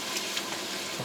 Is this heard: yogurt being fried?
yes